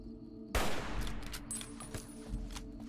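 Gunfire in Fallout: New Vegas at Camp McCarran: a sudden loud burst of rapid shots opens the clip, then carries on as a dense, echoing fusillade of overlapping rounds that stays steady to the end, with no talking.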